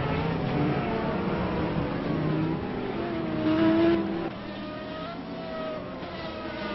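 Race cars in the RLMS racing game drone around Monza in a steady engine whine, the pitch rising and falling as cars pass and shift, with one louder surge midway before the sound settles lower; no voice is heard.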